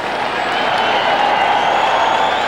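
Home crowd at a 1994 NFL game between the Cincinnati Bengals and New York Giants in Giants Stadium, a loud, steady roar of thousands of fans reacting, sustained throughout with no talk over it.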